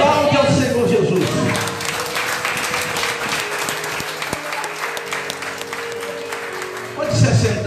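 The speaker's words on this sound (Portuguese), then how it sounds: "Diga glória a Deus, aplaude ao Senhor Jesus." Church congregation at an Assembly of God service applauding loudly and steadily, dense clapping filling the room throughout, with a voice briefly heard at the start and again near the end.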